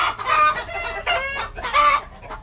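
A hen cackles close by in three loud, rising bursts in quick succession.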